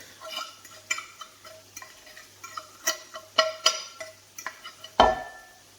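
A utensil scrapes and taps against a bowl while flour is mixed into egg, in irregular clicking strokes close up, ending with a louder clatter.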